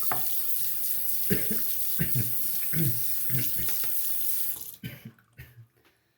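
Running tap water rinses slurry off a Shapton Kuromaku 8K sharpening stone. The splashing is close and steady, broken by a few knocks as the stone is handled, and it stops abruptly near the end.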